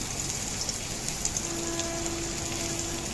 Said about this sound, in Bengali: কড়াতে তেল দিয়ে এবার রসুন আর শুকনো লঙ্কা দিয়ে দিলাম এবার দেব কালো জিরে